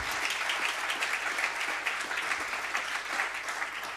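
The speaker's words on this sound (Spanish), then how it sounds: "este aplauso es para ti" An audience at a university tribute ceremony applauds in a steady, even wash of many hands clapping together, sustained without a break for several seconds.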